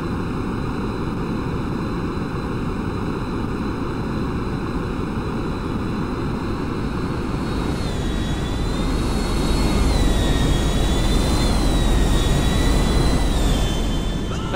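Jet airplane engine in the video game GTA 5, a loud continuous roar with a whining tone that rises and swells toward the end, close and steady with no talking.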